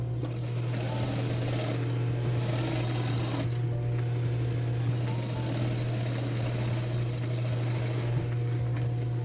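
A sewing machine runs continuously, topstitching close along a jeans seam on men's denim trousers, with a steady loud motor hum throughout and no talking.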